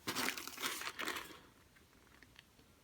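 Packaging crinkles loudly for about a second and a half as a holiday gift box from a PR firm is opened up close, then fades to scattered soft rustles.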